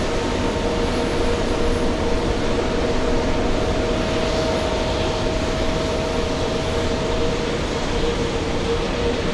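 Virgin Atlantic Airbus A350-1000 jets sit at JFK airport while a loud, continuous engine roar drones steadily throughout with a faint hum underneath and no pauses.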